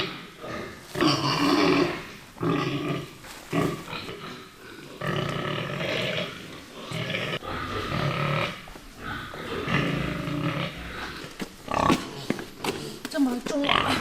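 Pigs, including an old sow and pregnant sows on a rural farm, grunt and snort at feeding time while someone talks over them, with buckets and feed clattering nearby.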